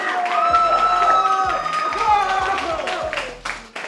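A live esports crowd at a Mobile Legends playoff event cheers and applauds a team from start to finish, loud and close, with music and bass thumps running under the noise.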